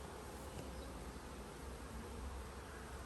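A swarm of honeybees, a small secondary cast-off swarm hanging in a tree, hums with a dense, steady buzz that holds level throughout with no voices.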